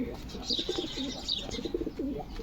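Pigeons coo in soft, repeated throaty phrases close by in a loft, overlapping in a low burbling rhythm with faint background noise.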